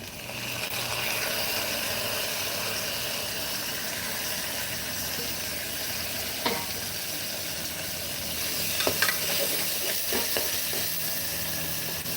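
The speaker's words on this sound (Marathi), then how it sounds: "थोडासा परतला ना की त्यामध्ये आपल्याला चिरलेले टोमॅटो टाकायचे" Chopped tomatoes go into onions frying in a pan, giving a loud, steady sizzle and hiss that continues throughout, broken by a few clinks and stirring knocks.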